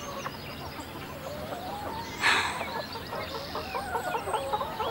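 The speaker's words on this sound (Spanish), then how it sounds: "y las gallinas están aquí dentro" Several chickens cluck and squawk close by in a busy, continuous chorus, with one louder burst of flapping and squawking midway.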